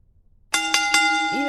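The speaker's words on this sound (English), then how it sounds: "Either way, here's the bell." A wrestling match bell rings sharply after a moment of silence, struck three times in quick succession, each bright metallic ding ringing on with a long shimmering tail.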